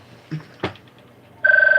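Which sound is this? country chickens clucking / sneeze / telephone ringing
telephone ringing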